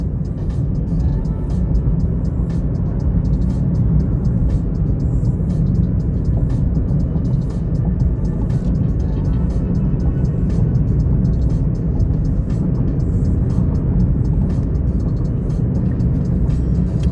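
A car engine held at higher revs while driving on a hot day around Big Bear after a late-April snowfall, a steady, dense drone that fills the cabin without a break.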